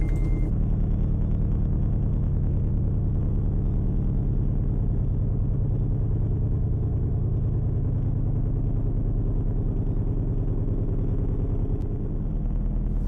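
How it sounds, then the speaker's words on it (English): A car engine idles loudly and steadily in the Roblox game Greenville, a deep throbbing rumble that holds constant throughout. "Super loud idle sound for this one"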